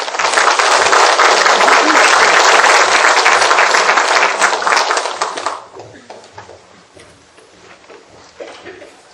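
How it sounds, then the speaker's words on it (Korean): An audience at a lecture on village community welcomes the speaker with loud, dense applause that holds steady for about five seconds, then fades to scattered claps and room noise. "강사님께 큰 박수로 환영해 주시기"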